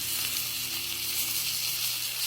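Filet mignon sizzles steadily in butter in a hot pan, a dense, continuous frying hiss held at an even, close level with no talking.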